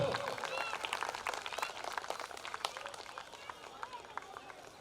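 Audience clapping at a community award ceremony, a dense patter of hands that is loudest at the start and thins gradually, with voices speaking faintly over it.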